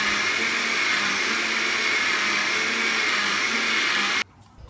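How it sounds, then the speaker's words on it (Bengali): Blender whipping homemade mayonnaise of oil with lemon or vinegar, a loud continuous high whirring that runs for about four seconds and then cuts off abruptly into near silence. "আবারও ব্ল্যান্ড করে নিচ্ছি"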